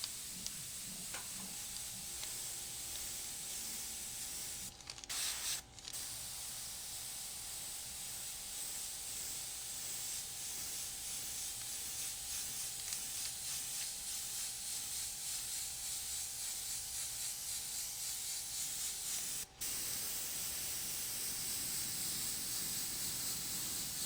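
An airbrush sprays paint lightly onto poster board in a steady, continuous hiss that runs close by for the whole stretch, broken by a couple of brief gaps.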